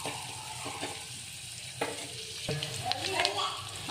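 Garlic, onion and curry leaves sizzle steadily in hot oil for toor dal sambar, with a few sharp spoon scrapes and stirring knocks against the pan through the hiss.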